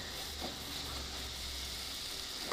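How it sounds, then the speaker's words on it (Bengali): Spice paste being sautéed in a pan for a Bengali loitta (Bombay duck) fish curry, a steady faint sizzle and hiss with no pauses over a brief stretch. "দেখুন, মশলাটা আমার কষানো হয়ে আসছে।"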